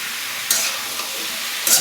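Pumpkin pieces frying with kalonji in hot oil make a steady, close sizzle that flares into two short, louder bursts of hissing, with no speech.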